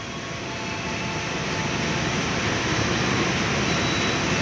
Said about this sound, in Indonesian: Jakatingkir berangkat stasiun Kroya menuju tujuan akhir stasiun Solo Balapan.